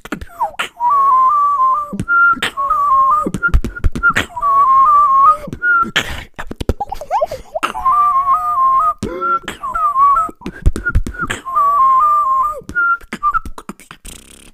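Lip-roll-position whistling with slightly open lips produces repeated short wavering phrases near and clear, separated by brief pauses and breaths, with no talk.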